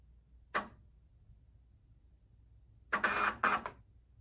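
A Zebra ZT400/ZT600 thermal label printer runs RFID media calibration, giving one short mechanical click or feed burst followed after a pause by two quick louder whirring feed bursts, close and otherwise quiet.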